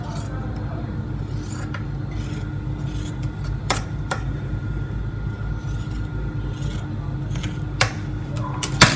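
Scissors trim excess trouser fabric while a pocket is sewn. Sharp cutting snips and clicks come irregularly over a steady background of rubbing and handling noise, up close and fairly quiet.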